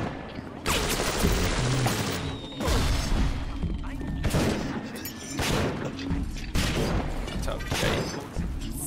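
Gunfire in BioShock: a run of sharp, loud shots and bursts, with impacts and mechanical clatter in between, spread across the whole stretch while a voice talks.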